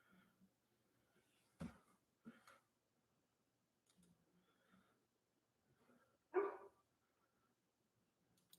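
Dogs barking somewhere away from the microphone, a few sharp isolated barks spread out over several seconds with quiet gaps, fainter sounds in between.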